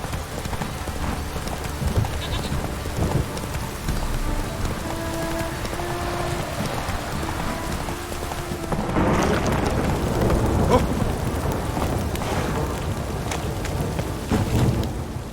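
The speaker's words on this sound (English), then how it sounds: "This downpour's a bastard, it is." Heavy downpour in The Witcher 3: Wild Hunt, a steady loud hiss of rain that swells after the midpoint, with hoof clip-clops and faint rumbles mixed in.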